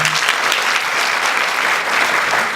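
A taekwondo talk audience bursts into dense, continuous applause, loud and even, a wash of many hands clapping at once with no speech.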